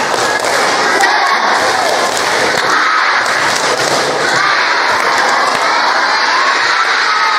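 A crowd, many sounding like children, joins a rhythmic tepuk semangat clapping chant at a religious sermon gathering, a dense and loud mass of claps and shouted voices lasting throughout.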